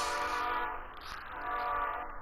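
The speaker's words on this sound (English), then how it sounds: "Don't mind the train in the background." A train rumbles past at a distance with a steady, continuous roar that swells slightly as it goes by, heard faintly in the background with no talk over it.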